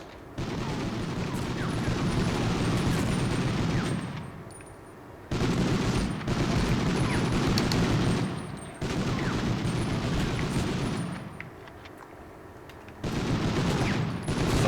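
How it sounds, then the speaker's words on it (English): Sustained machine gun fire from a dinosaur enemy in Medal of Honor, long dense bursts of rattling shots in three or four stretches separated by brief lulls, loud and steady. "Just a dinosaur firing a machine gun at you."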